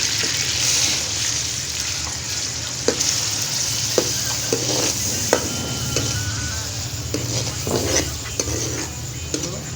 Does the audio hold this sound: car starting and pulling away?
no